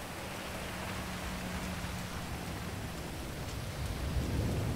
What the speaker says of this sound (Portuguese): Está um temporal que não se pode aqui.